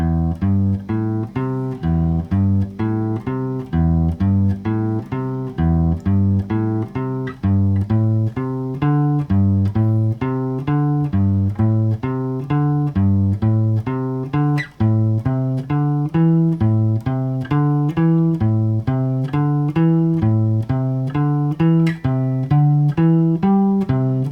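Guitar notes played as a steady pentatonic pattern, each pair of notes repeated in an even rhythm, clear and close with no talking.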